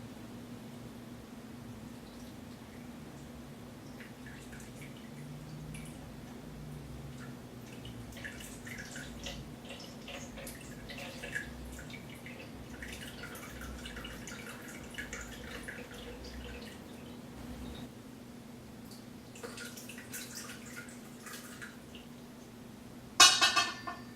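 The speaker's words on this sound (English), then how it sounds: "Just going to pour the mix into the cheesecloth" Cannabis butter mixture drips slowly through cheesecloth, with faint, sparse wet drips over a quiet steady hum and a short louder splash near the end.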